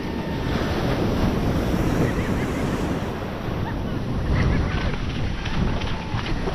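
Ocean surf rolls onto a sandy beach in a constant, loud wash, with gusting wind buffeting the microphone throughout.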